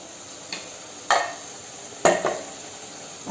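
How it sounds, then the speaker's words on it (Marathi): Cream being stirred into egg korma gravy in a home kitchen pan, with a few distinct scraping strokes of the spoon against the pan over a low steady background hiss, no voices. "आता हे चांगलं परत ढवळून घ्यायचं,"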